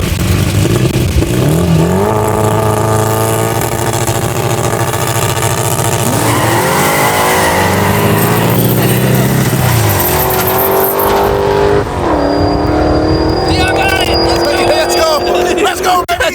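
A 1100hp turbo Integra and a 700hp Fox Body Mustang race in a no-prep drag race, their engines roaring loudly with rising revs, gear-change dips and turbo whine, while voices shout over the noise.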